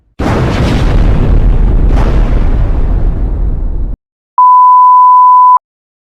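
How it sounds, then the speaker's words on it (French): An explosion sound effect from an editing app bursts loudly for about four seconds, a roaring blast that fades, followed after a short silence by a steady electronic beep tone. "si j'appuie juste là, ouais, je peux faire une explosion"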